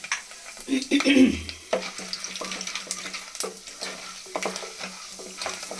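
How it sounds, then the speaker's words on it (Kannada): Mustard seeds dropped into hot oil for tempering a puffed-rice chitranna crackle and sizzle steadily, with scattered pops and clinks of a utensil close by in a home kitchen. "ಸಾಸಿವೆ ಹಾಕ್ತಾ ಇದ್ದೀನಿ"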